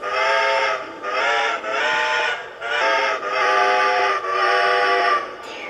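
A model train's electronic horn sound effect plays in a series of repeated blasts, each held for about a second with short gaps, loud and close with no talking.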